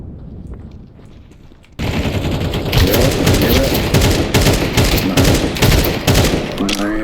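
Rapid bursts of MP9 submachine gun fire in a Counter-Strike 2 match, loud and close, with dense overlapping shots and sharp effects continuing for several seconds after a quieter opening.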